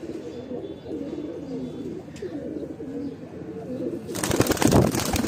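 Golden Bajre pigeons coo in soft, repeated throaty rolls close by, then a sudden loud burst of wing flapping erupts as the birds take off.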